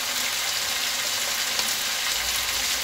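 Tomatoes and spices sizzling in a hot pan while chilli paneer is cooked: a steady, dense hiss of frying that holds at an even level throughout, close and unbroken, with no voices.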